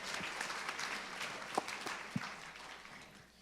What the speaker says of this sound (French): Ah, on applaudit Pete Fromm.